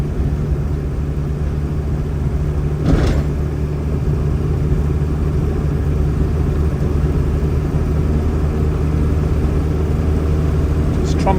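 A 1963 Morris Mini Minor 850 Mark 1 drones along the road as a steady, low, rumbling in-cabin engine and road noise lasting several seconds, with no speech.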